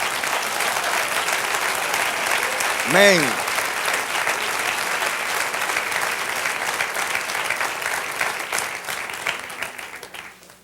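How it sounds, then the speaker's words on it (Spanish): A church congregation applauding, dense continuous clapping from many people, loud and steady before fading at the end, with a voice briefly calling out over it. "Sí, dale aplauso al Señor."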